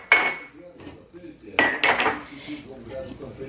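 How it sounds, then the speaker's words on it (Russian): Cutlery and dishes are unloaded from a dishwasher: sharp metallic clinks and clatters in a few separate bursts, close by, with quieter handling noises between. "Разбираю посудомоечную, мы сейчас каждый день моем посуду."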